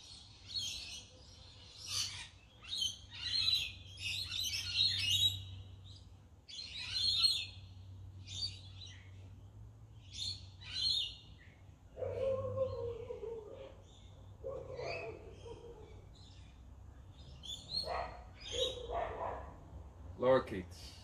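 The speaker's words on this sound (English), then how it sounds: "Lorikeets in the evening time." Lorikeets call in the evening, a flock of shrill chirps and screeches in scattered bursts at moderate distance, with someone speaking softly between them.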